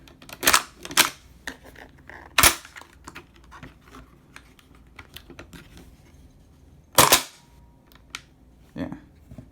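MSK blaster firing with light hammer strikes, a handful of sharp isolated snaps spaced irregularly amid quiet mechanical clicks and handling noises.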